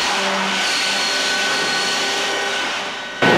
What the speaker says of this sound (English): This high-tech saw made by the same people who make flight simulators will cut the log following its shape.